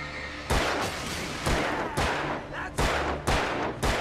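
Gunfire in the video game Alan Wake, five or six loud single shots spaced roughly half a second to a second apart, each a sharp crack with a short tail, over a low steady game ambience.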